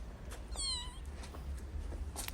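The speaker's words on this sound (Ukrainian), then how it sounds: "Це просто малюк кота." A newborn kitten, about four days old and brought to an animal shelter, gives one thin, high, wavering meow up close against quiet room noise.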